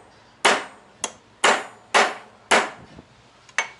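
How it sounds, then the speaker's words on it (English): Six sharp hammer blows strike a wire fitting, spaced irregularly about half a second apart, loud and close with no talking. "make sure the wire's in there all the way in, then I'll just hit that with the hammer."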